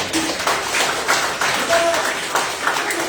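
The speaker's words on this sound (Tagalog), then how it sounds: "Pumalakpak sa Panginoon." Church congregation at a worship service clapping together, a dense, steady patter of many hands lasting a few seconds, fairly loud and close, with faint voices mixed in.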